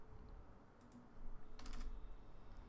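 Typing on a computer keyboard while writing Android Studio layout code, a short burst of quick keystrokes about midway through, fairly faint over steady room noise, with a couple of isolated clicks just before.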